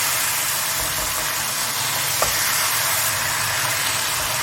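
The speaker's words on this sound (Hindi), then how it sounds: "फ्राई की हुई भिंडी है वो डालेंगे और इसको मज़ीद भून लेंगे अच्छी तरह" Fried okra and tender chicken sauté together in a pan, a dense, constant sizzle with a low steady hum underneath and one brief clink midway.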